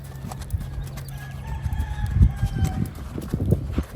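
A Tennessee Walking Horse, a blue roan, moves in a flat walk with a quick, uneven run of hoof clip-clops, moderately close over a busy outdoor background with a rooster crowing faintly.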